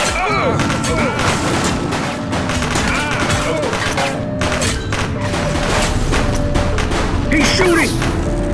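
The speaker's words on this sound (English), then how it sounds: "Gunshot!" Gunfire in The Precinct, a police video game: repeated loud shots and bursts over busy game music and effects, with in-game voices calling out.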